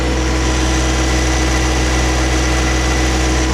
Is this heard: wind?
no